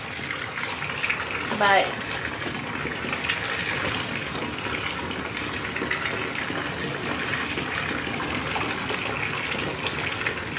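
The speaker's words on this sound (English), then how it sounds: "So I'm just going to rinse this out. Rinse in the cold water." Cold tap water runs steadily over tea-stained fabric being rinsed, a continuous broadband gush at moderate level with a brief louder splash near the start and a single spoken word.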